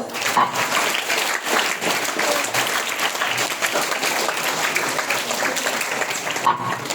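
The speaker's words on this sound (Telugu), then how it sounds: "ఎంత చక్కగా చెప్పిందో అందరూ చప్పట్లతో." Audience applause at a school Telugu Day 2025 event: steady, dense clapping from a crowd fills the whole stretch at an even, loud level.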